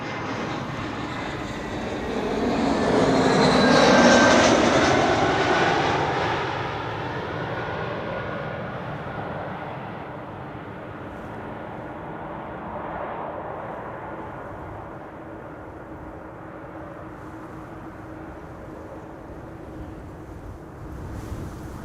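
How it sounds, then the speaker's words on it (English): A British Airways Airbus A320 jet arrives at Amsterdam Schiphol, its engine roar swelling loud overhead, then fading into a long, steady rumble as it moves away. "BA Flight 430 arriving from London Heathrow, A320"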